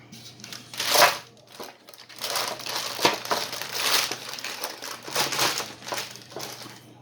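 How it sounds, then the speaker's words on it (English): Parchment paper is crumpled by hand to line a baking dish, a steady close crinkling with louder scrunches every second or so and a faint electrical hum beneath. "Here's a bit of hot parchment paper."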